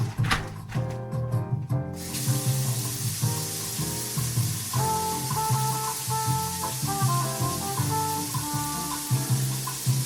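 Room-temperature water splashes into a Nongshim Big Gomtang instant noodle container in a brief hissing pour lasting about two seconds, close and fairly loud, followed by quieter background tones.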